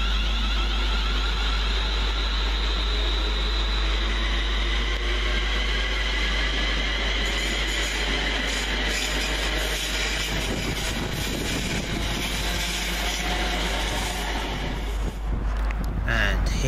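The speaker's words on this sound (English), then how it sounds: "Just departing on the down slow 350 120 along with 350 102, working the 1105 London Northwestern Railway service from Crewe to London Euston" A London Northwestern Railway class 350 train pulls away on the down slow line at Rugeley Trent Valley station, a steady loud rumble with wind buffeting the microphone, building toward the end.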